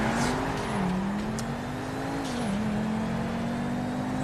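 Buffalo STX and Nero Custom cars race at speed in GTA 5, with a loud, continuous engine whine that rises and dips in pitch as they accelerate, and no talking.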